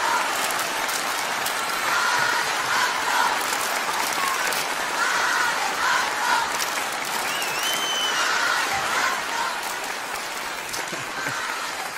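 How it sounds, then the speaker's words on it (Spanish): Steady recorded applause from a large crowd played back during a live stream, continuous and fairly loud throughout, with faint whistling tones over it. "hemos puesto un aplauso grabado"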